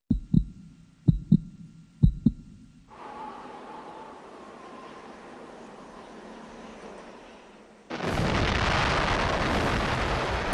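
Atomic bomb test explosion: a few sharp thuds, then a sustained low roar that erupts into a loud, broad rushing blast lasting several seconds.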